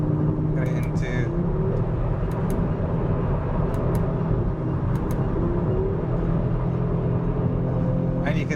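A 2022 Audi RS3 runs flat out at 100 mph on a high-speed oval bowl, its engine and road noise a loud, steady rumble with wind roar while a voice talks over it.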